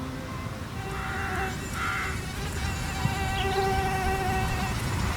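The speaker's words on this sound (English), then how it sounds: "the now contaminated mosquito flies out of the station" A mosquito flies with a thin, steady whine that rises and fades in short passes over a low background hum, with no voices.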